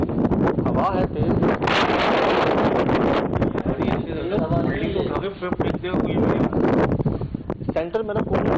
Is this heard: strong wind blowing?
yes